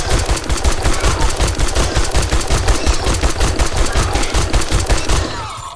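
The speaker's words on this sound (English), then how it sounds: "That drum mag came through because that took all 30 rounds." Sustained rapid automatic gunfire from a drum-magazine weapon in the video game 7 Days to Die, loud and dense for about five seconds as the full 30-round load empties, then cutting off.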